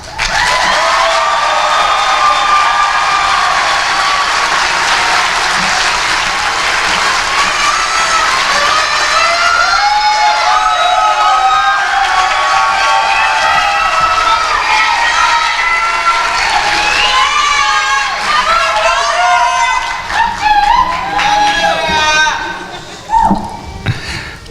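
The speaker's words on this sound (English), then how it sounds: "Give me a round of applause" A crowd at the Idaho Youth Challenge Academy graduation cheers loudly, with whoops, high shouts and whistles rising over steady applause that keeps building before tapering off at the end.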